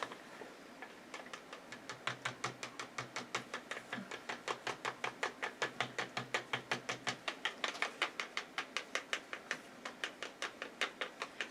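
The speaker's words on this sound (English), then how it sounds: "I'm going to stir this up and then we're going to use it as an accent" Iridescent white acrylic paint being stirred in a container, a fast, even series of sharp ticking taps as the stirrer knocks the sides, steady and close, with no talking.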